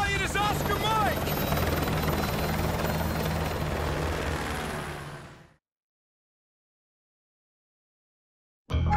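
A helicopter drones loudly and close in Call of Duty Advanced Warfare, a steady thumping roar that fades out abruptly midway into silence before sound briefly returns at the end.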